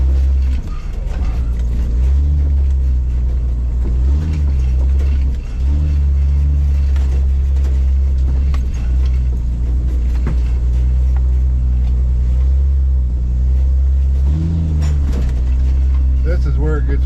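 A 1996 Jeep Cherokee engine drones loudly and steadily on an off-road trail, with low exhaust growl and occasional surges, heard up close throughout.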